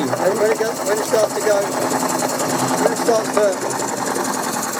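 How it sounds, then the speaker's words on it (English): A model steam puffer boat engine with a flywheel rattles and chatters rapidly as it speeds up, a steady mechanical clatter running beneath close talking voices throughout. "It's rattling a bit when it gets a bit fast"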